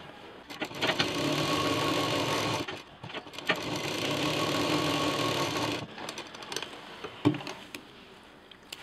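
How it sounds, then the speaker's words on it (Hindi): A sewing machine runs steadily, stitching red quilted pouch pieces in one long continuous hum before stopping, followed by faint handling knocks. "अब ये जो रेड वाले पीस हैं हमारे क्विल्टेड पीस हटाते हुए, इसको भी पूरा हम इस तरह से सिल देंगे"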